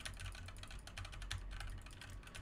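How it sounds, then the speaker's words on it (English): Steady typing and clicking on a mechanical keyboard with Cherry Red switches, a fast continuous run of soft, close keystrokes with no talking. "this is what it sounds like, clicking and typing on the keyboard"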